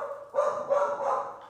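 A dog barks a few times indoors, short muffled woofs at moderate distance in a quiet room.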